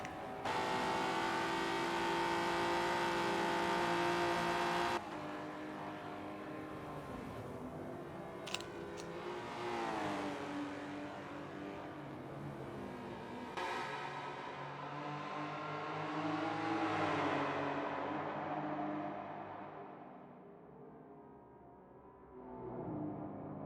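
Historic touring race cars, a BMW and an Alfa Romeo, race side by side through a tunnel in a virtual championship round, engines droning and revving steadily with gear-change breaks, the sound fading toward the end.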